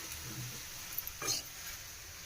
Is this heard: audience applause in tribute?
no